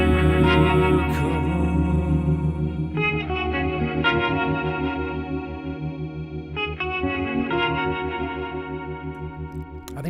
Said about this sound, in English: It's a harmonic tremolo.